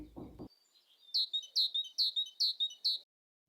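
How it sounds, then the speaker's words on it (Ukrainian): A tit (titmouse) sings a repeated bright two-note call, about six clear phrases in a steady rhythm, near and alone after a brief low sound at the start. "А ось і синичка рада нас вітати та заспівати свою пісеньку."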